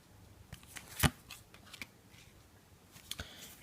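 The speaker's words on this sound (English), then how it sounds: "let's give the cards a shuffle" Tarot cards being shuffled by hand, a close riffle and slide of card stock with a sharp snap partway through and lighter shuffling sounds around it.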